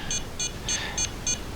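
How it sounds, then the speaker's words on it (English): A JJRC H30 nano drone and its controller power on with a run of six short, evenly spaced high beeps, fairly quiet over a soft background hiss. "We're hearing the beeping."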